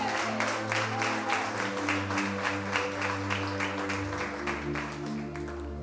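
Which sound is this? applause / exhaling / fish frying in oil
applause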